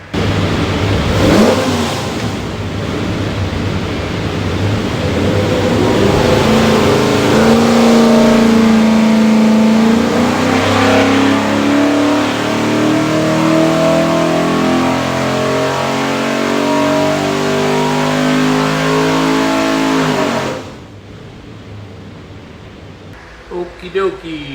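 A 363 cubic-inch Ford V8 with a custom-ground hydraulic roller cam roars loud and close on a dyno, climbing steadily in pitch through a long full-throttle pull, then cutting off abruptly to a quiet idle.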